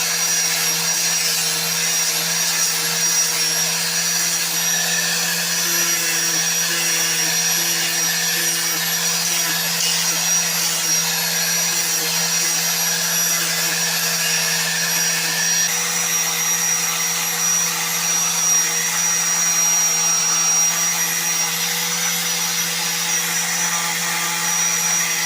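A Kurinda sanding machine runs a 40 grit sheet over forged carbon made from kevlar offcuts, giving a steady, even whine that holds at one loud level throughout with no breaks.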